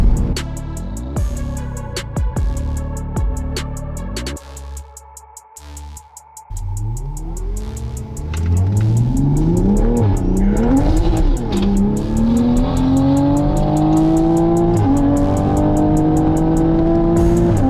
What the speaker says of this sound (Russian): Очень сильный букс от Супры.